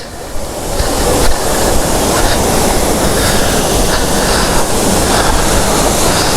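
Soormane Falls near Kalasa roars in the monsoon as a steady, loud broadband rush of falling water, continuous and close throughout with no pauses.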